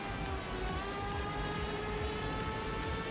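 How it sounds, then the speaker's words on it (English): Rain falls in the Formula Legends racing video game as a steady, even hiss with a low engine drone and faint tonal hum beneath it. "the rain's about to start. Okay, here it is. It's raining."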